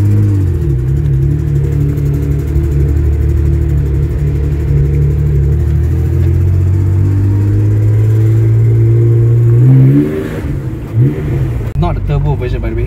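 A Porsche 930 SC Targa (Super Carrera, non-turbo) driving with its engine droning and revving steadily, the pitch climbing gradually before a shift near the end, loud and close from inside the car.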